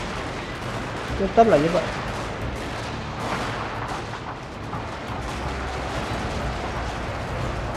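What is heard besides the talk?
gunfire and artillery in a video game, Fall of the Samurai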